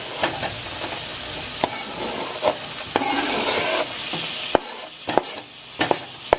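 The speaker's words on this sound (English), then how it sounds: "Let's just saute that onion in the butter." Onion sautéing in butter in a pan, a soft continuous sizzle broken by irregular spatula scrapes and sharp taps against the pan, close and fairly quiet with no talking.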